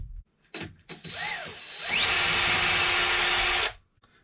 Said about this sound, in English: then I can drill pilot holes for the screws on that side